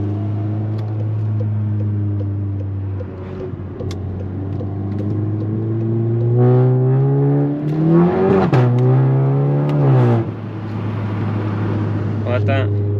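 A VW Golf 7.5 GTI Performance with a Ragazzon muffler rumbles at idle and then revs, its exhaust note rising and falling in a couple of strong sweeps before settling back, with a voice talking over it.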